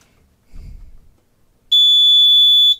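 A brief low thump, then a loud, steady high-pitched electronic beep from a nearby Notifier NFS2-640 fire alarm panel holds for about a second.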